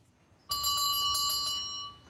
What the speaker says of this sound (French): La cloche retentit à nouveau.